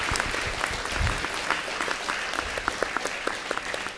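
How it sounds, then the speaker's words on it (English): A meetup audience claps to welcome a speaker onto the stage, a full and steady round of applause from many people, busy and continuous with sharper individual claps near the end, and faint murmuring beneath it. "Maybe we get a big round of applause for Mr."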